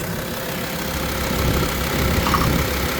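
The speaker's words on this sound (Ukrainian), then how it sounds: "Мотор працює добре" A Volkswagen Touareg 2.5 TDI diesel engine idles close by, a steady, loud, low rumble with an even mechanical chatter and no change in pace. No voices are heard.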